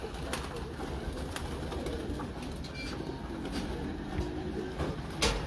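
Large breeder pigeons cooing in a loft, a low steady murmur of coos running throughout under dense ambient noise, with a few sharp clicks on top.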